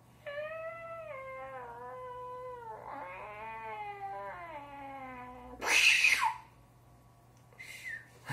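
A voice imitates a cat, drawing out several long wavering meows and a yowling caterwaul, then a short harsh hiss-like burst, close and clear in a quiet room.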